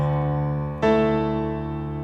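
A sustained chord voiced without its third and seventh rings out steadily, then is struck again about a third of the way in and left to decay, with no talking over it.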